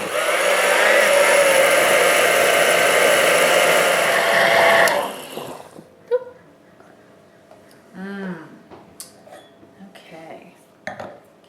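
A regular countertop blender whirs loudly and steadily for about five seconds, blending a green smoothie of leafy greens and berries, then cuts off, leaving quiet kitchen clatter and a short burst of speech.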